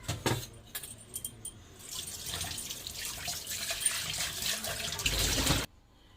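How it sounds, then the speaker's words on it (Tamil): Dishes are scrubbed at a kitchen sink with the tap running, metal utensils clinking and jangling at first before a steady rush of water builds and then cuts off abruptly. "பாத்திரத்தை தேய்ச்சாச்சு."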